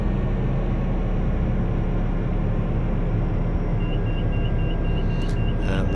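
Engine of an H500C helicopter in Microsoft Flight Simulator, a loud steady turbine rumble with a thin tone creeping upward as the rotor RPM climbs, heard alone without talk.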